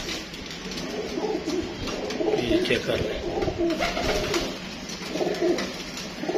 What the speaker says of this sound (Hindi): अच्छे कबूतर हैं यार